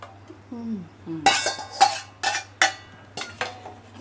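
A spoon knocks and clinks against a pot while soaked sabudana (sago) mixture is stirred, giving several sharp, spaced scrapes and taps, with a brief faint voice at the start.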